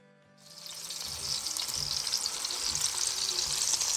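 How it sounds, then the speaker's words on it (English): Mangalitsa pork bacon sizzles in a pan, the frying crackle rising quickly from quiet and holding steady and fairly close, with no talking. "we're gonna fry some bacon and have a big breakfast."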